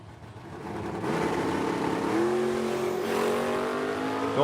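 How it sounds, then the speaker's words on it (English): A 1982 Chevrolet Camaro race car on a racetrack, engine revving and climbing in pitch as it accelerates, loud and close, with a brief dip between gears. "Right-hand side of the racetrack. Little 82 Camaro."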